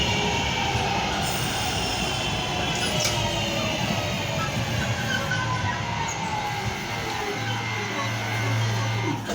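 A train rumbles past at Gravelly Hill station, a steady loud roar of wheels and carriages filling the whole span, with faint squeals from the rails and no pause in the sound.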